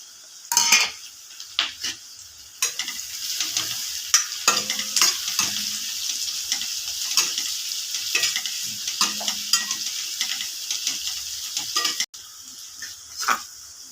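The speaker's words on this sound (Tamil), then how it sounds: "இது கூட லைட்டாக பிரிஞ்சி இலை, சோம்பு, கிராம்பு எல்லாம் தாளிப்புக்கு எடுத்துக்கலாம்" Garlic, bay leaf, fennel and cloves fry in oil for tempering, crackling and sizzling steadily while a metal spoon clinks and scrapes against the pan in sharp bursts, close and without talk.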